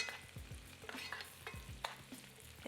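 A lamb chop sizzles in butter in a pan while being basted, with a soft crackle broken by several spoon scrapes and clinks, close and fairly quiet.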